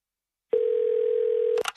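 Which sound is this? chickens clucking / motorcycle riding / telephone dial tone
telephone dial tone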